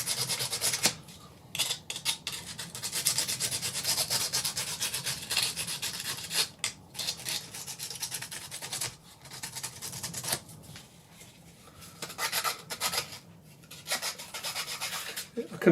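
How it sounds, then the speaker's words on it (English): Cheap plastic rubbed and abraded lightly by hand, a steady dry scratchy rasp running almost continuously with brief pauses, close and fairly quiet. "I can feel I'm only rubbing this plastic lightly, and it abrades really easy"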